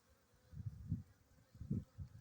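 Buckfast honey bees buzz around a freshly hived swarm in a box set in grass, a low droning hum that swells and fades in close bursts, with no voices.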